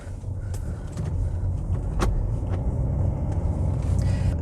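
A 2011 Mercedes C220 CDI W204 with a 2.2-litre twin-turbo diesel pulls away and drives, a steady low engine rumble and road noise heard from inside the cabin, with a few faint clicks and no talking.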